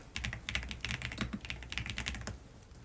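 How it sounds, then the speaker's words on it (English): Rapid typing on a computer keyboard, a dense run of close, crisp key clicks with no pauses, heard alone. "Typing fast"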